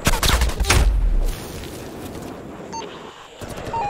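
A loud burst of rapid automatic gunfire in Call of Duty: Black Ops Cold War multiplayer fills the first second, then cuts off, leaving quieter background noise with a few faint electronic beeps.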